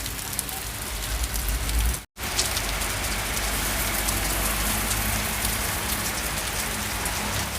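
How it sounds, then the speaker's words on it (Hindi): Heavy rain pours steadily on a surface nearby at Khooni Darwaza, New Delhi, a dense, unbroken hiss with a brief dropout near the start. "और इधर भी देखो ये कितनी बारिश हो रही है।"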